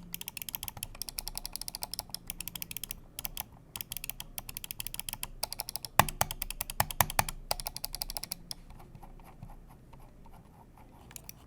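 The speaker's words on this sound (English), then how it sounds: "I cranked this all the way down to 0, and it won't free spin, but it pulls every bit of tactility and, more importantly, noise out of the scroll." Razer Basilisk mouse scroll wheel turned with its resistance set to zero, producing rapid bursts of fine, soft ticking in irregular runs, close and fairly quiet, with no talk.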